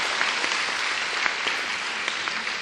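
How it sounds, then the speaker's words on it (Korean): An audience at a university mock interview session claps steadily, a dense, even patter of many hands lasting a few seconds in a room. "박수 한번 부탁드립니다"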